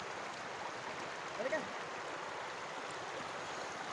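Clear water flows steadily in a stream at a swimming spot in Bayukbok, General Tinio, Nueva Ecija, making a soft, continuous rushing babble close by, with a faint voice briefly present partway through.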